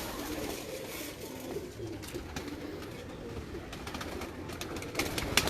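Pigeons in a breeder's loft coo steadily in low, soft rolling calls, several birds overlapping close by in a continuous murmur, with a few sharper sounds near the end and no talking.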